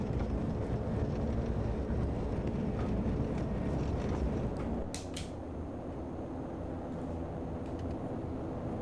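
A light aircraft's engine drones steadily during takeoff in the flight simulator X-Plane 11, a broad continuous roar with a faint wind-like hiss that drops slightly in level partway through.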